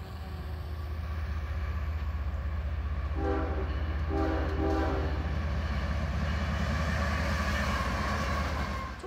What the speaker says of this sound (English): As our new train speeds toward us, we can see it make the move from one track to another